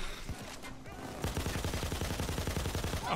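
Rapid automatic gunfire in the heist video game Payday 2, a dense burst of repeated shots rattling steadily after a brief quieter lead-in, loud and close.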